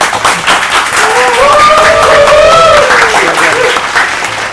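Studio audience applause at a comedy talk show taping, a dense sustained wash of clapping lasting several seconds, with a voice or tonal sound weaving through the middle.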